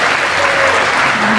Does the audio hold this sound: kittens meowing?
no